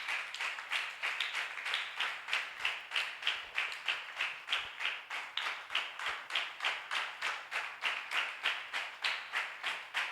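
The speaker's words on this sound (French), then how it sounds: "Applaudis pour le roi des rois." A church congregation claps in steady rhythmic unison, dense and continuous throughout, like worshippers applauding in praise during an evening service.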